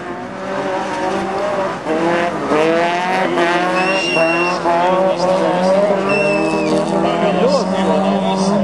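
A second-generation Volkswagen Golf 3 race car with a 1.8-litre, 66 kW engine drives hard on a racing circuit. Its engine revs rise and fall, tires squeal, and a commentator talks over the sound throughout.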